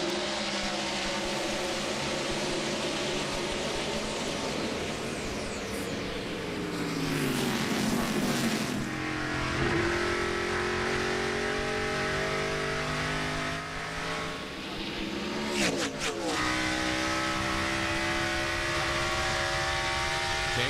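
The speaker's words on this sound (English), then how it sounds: "we're coming down to the green flag, and it's the Toyota of Ruderman who will lead him down looking for his very first Busch win" NASCAR Busch Series race cars at the 2007 Gateway 250 roar continuously at a green-flag restart, engines rising in pitch as the field accelerates, with sharp passes sweeping by near the seven- and fifteen-second marks.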